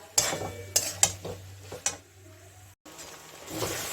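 Radish being stir-fried with salt and spices, several sharp spatula knocks against the pan over a low sizzle, then a brief pause and a softer hiss.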